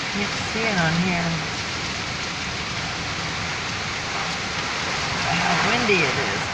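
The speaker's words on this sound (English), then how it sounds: "There, you can see the rain down there by the street light." Heavy rain pours steadily through a windy night storm near a street light, with gusty wind noise throughout and a voice briefly speaking over it.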